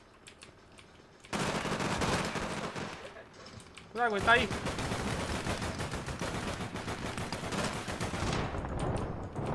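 Gunfire in the online game APB: bursts of rapid shots break out suddenly and continue densely amid game noise, with players talking over the action.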